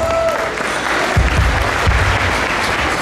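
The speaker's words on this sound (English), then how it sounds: "Let's give them a round of applause." Audience applause at a Kalayaan 2017 ceremony, following the national anthem and a blessing; a dense, steady wash of clapping fills the whole stretch at a fairly loud, even level.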